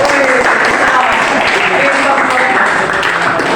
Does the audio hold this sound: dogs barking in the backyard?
no